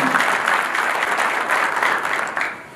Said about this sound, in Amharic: በመቀጠል አጨብጭቡ